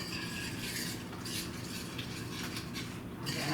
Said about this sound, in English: stir that up and put it back on the heat